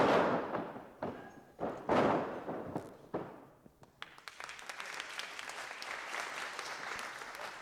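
Polite crowd applause in the NBA 2K14 basketball video game, several bursts of clapping swelling and fading, then a steadier, thinner patter of claps in the background.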